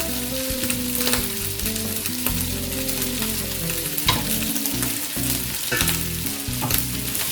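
Rice frying in hot oil in a pan for Nigerian fried rice, a loud, steady crackling sizzle with bursts of stirring scrapes throughout, close and continuous with no voices.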